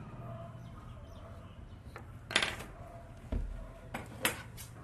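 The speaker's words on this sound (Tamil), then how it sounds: "இதை நான் அப்படியே கட் பண்ணுறேன்" Scissors cut through silky pattu pavadai fabric for a child's dress, giving a few sharp, separate snips spaced about a second apart against a quiet room hum.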